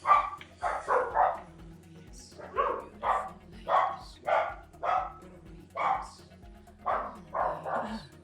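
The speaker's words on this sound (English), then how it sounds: "Two dogs." Two dogs barking at a package arrival at home, a string of loud, sharp barks in uneven bursts across the whole stretch, close by with some household background hum.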